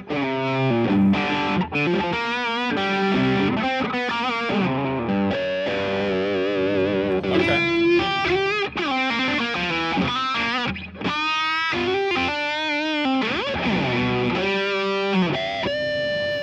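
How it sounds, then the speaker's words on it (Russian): Electric guitar through a Blackstar tube amp on the overdrive channel, a continuous driven, gritty run of chords and fast lead phrases with bends, loud and close, no talking. "И вот звук с перегрузом."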